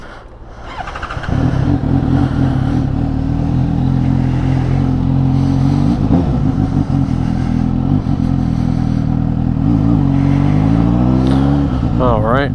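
Suzuki GSX-S 750 motorcycle being ridden, its engine note rising after a quieter start into a loud, sustained drone with shifting revs and wind noise, a voice faintly present at times.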